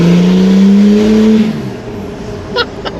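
A turbocharged Holden VL engine revs hard with a rising whine as the turbo spools, then drops off quickly and settles into a rough idle, followed by a couple of brief clicks, all close and loud.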